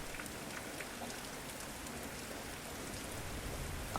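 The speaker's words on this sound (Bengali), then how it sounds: "অনেকক্ষণ অপেক্ষা করার পর বুঝলাম বৃষ্টিটা হয়তো এখন আর থামবে না।" Heavy night rain from a village cartoon pours in a steady, dense hiss throughout, close and unbroken, with no voices over it.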